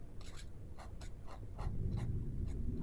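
Pen writing on paper for a tortle sorcerer character sheet, close scratchy strokes in quick regular bursts, with a low rumble underneath that grows slightly louder halfway through.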